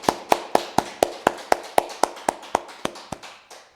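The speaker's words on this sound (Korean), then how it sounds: "우리 하나님께 영광의 박수 올려드립니다" Clapping at a church Friday prayer meeting, about fifteen sharp, evenly spaced claps in a quick steady rhythm, close and clear with no talk over them.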